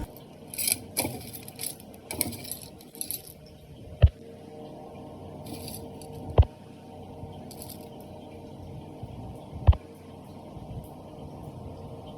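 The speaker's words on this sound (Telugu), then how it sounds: "ఈ ఎండ్రీలు బాగా అయినాయి అన్న ఎండ్రీలు సౌండ్ బట్టి అర్థమవుతుంది" Dried prawns rattle and clink against a bowl in short, scattered bursts, with crisp bright clatter early on and a few sharp knocks later, close and fairly quiet, with no voices.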